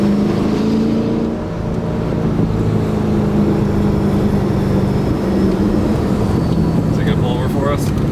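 Ford GT sports car driven hard along the twisting US 129 Tail of the Dragon mountain road, its engine droning steadily and loud from inside the cabin, with road and wind noise throughout and occasional voices talking over it.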